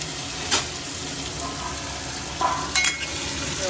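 Tomatoes hit hot oil already holding garlic, asafoetida and turmeric for a Kathiyawadi vegetable dish, giving a steady loud sizzle with a few brief clatters of stirring, alone without talk.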